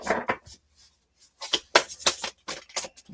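Several quick papery riffles and flutters of a tarot or oracle card deck being shuffled close by, in two bursts separated by a short quiet gap.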